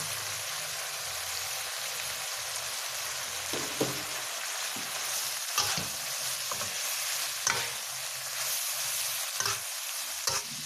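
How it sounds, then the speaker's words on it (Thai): Carrots, 200 g, are stir-fried in a pan as spring roll filling, with a continuous close sizzle and repeated clattering spatula strokes at intervals. "ผัดเข้าไปค่ะให้เข้ากัน แล้วเราจะตามด้วยแครอทนะคะ 200 กรัม"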